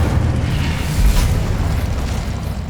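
An Incendio fire spell explodes in Hogwarts Legacy, a loud deep whooshing boom swelling around the middle over continuous rumbling game noise, with no voices.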